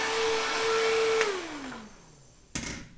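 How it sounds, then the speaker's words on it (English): A handheld hair dryer blows with a steady, loud rushing whir and motor whine, then is switched off and its pitch winds down and fades, followed by a short knock near the end. "I'm going to turn my hair dryer off"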